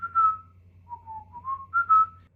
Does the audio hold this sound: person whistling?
yes